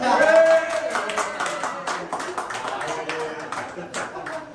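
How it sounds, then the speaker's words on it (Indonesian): Scattered hand clapping rises under lively talk and laughter, with irregular claps continuing through the clip. "Tepuk tangan dong."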